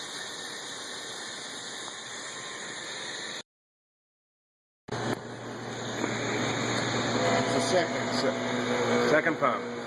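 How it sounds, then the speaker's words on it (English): A pump runs with a steady whining, humming drone while failing to build pressure; it cuts out briefly, then restarts louder and rougher with a continuous mechanical rush. "Second pump. Oh, not achieving pressure."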